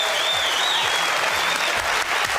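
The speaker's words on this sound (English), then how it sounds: "can we have a big round of applause for all our celebs" A studio audience applauds loudly and steadily for the celebrities on a televised IQ test results show, dense continuous clapping with a faint whistle or cheer over it.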